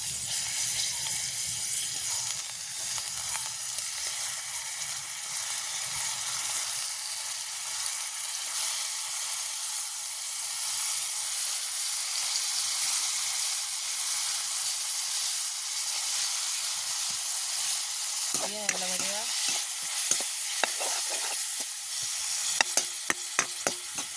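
Chopped tomatoes sizzle in hot oil in a pan, a steady close bubbling hiss that runs throughout, with a brief spoon stir and a few clinks of utensils partway through and toward the end.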